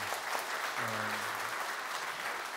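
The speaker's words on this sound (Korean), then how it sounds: "힘찬 박수를 보내드립니다." Audience applauding at a party debate final in Seoul, a brief wash of clapping heard at a moderate distance and fairly quiet, with a faint voice mixed in.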